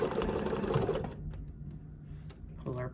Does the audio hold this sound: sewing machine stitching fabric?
yes